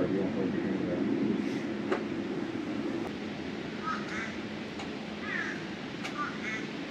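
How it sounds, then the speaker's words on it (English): A duck-like bird gives a few short quacking calls in the latter half, outdoors over a broad, windy rumble. "That's a cool bird."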